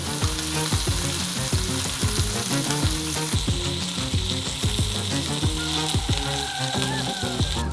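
Bacon-wrapped sausage frying on a grill, with a steady close sizzle running throughout and irregular clinks and scrapes of stirring or turning over it, no voices.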